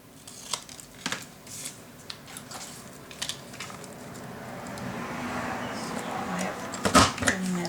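Scissors cut through Prima Marketing "Love Clippings" paper for a papercraft cabinet, giving a few crisp close snips early on and then a longer rustling cut, with a voice talking intermittently.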